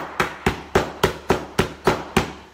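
A hammer strikes gingerbread for a house build, landing eight evenly spaced sharp knocks about a third of a second apart, each close and crisp with a quick decay, with no talking over them.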